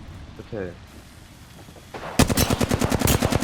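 Automatic gunfire in the video game Apex Legends, a loud rapid burst of shots in quick rhythm starting partway through, after quieter game sounds and a brief voice.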